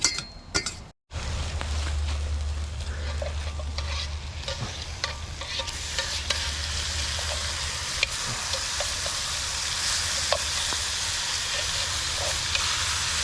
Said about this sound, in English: we are waiting for the sear to happen on all of the sides